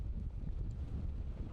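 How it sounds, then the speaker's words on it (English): Strong wind buffets the microphone on an exposed hillside along the West Highland Way in Scotland, a constant low roaring rumble filling the whole moment with no voices. "So as you can tell, it's rather windy here."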